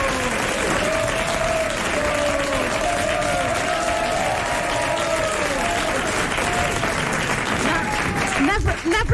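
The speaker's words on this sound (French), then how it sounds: "N'applaudissez pas autant quand je donne une bonne réponse" A studio audience at a 1994 French television game show applauds loudly and steadily throughout, with a voice talking over the clapping.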